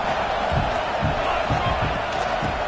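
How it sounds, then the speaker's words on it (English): A crowd fills a college football stadium with a continuous roar of cheering and shouting, dense and loud throughout, with distant thumps beneath the wash of voices. "Listen to the crowd energy here in the early going."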